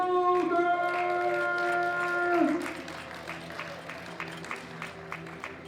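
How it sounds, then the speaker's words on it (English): Applause for a gold medal winner at a junior world powerlifting championships ceremony, sustained clapping under steady tonal music or announcement sound, then continuing more loosely as the tones stop. "a big round of applause now for Sonia Stephanie Kruger."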